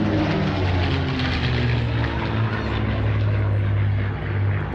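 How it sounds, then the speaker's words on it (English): A P-51 Mustang propeller fighter flies at the Cherry Point airshow, its engine a loud, steady, continuous drone with no pauses. "Now, Danny, interestingly, the original airplane built by North American had an Allison V12 engine in it"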